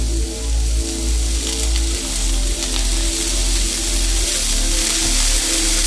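An onion mixture is added to a hot pan for a black pepper shrimp stir fry, giving a steady, close sizzle with crackling spatters and no voices.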